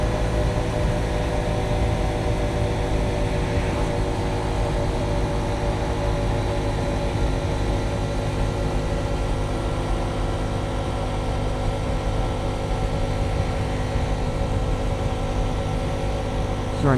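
A Honda Trail 125 motorcycle climbs an incline at about 46 mph, its engine drone steady and continuous under heavy wind rush for the whole stretch, with no talk.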